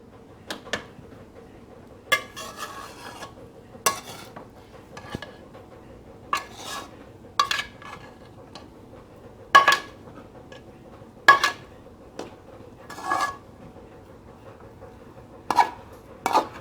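A utensil scrapes and knocks against a pot while potato rice pilaf is mixed, giving sparse clinks and scrapes every second or two over a quiet background.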